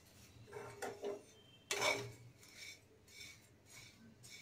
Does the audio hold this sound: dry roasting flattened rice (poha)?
yes